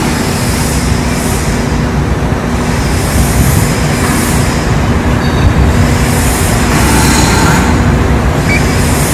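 A Mazak CNC machine running after cycle start, a loud, constant broadband roar and whir that stays steady for the whole stretch with no pauses.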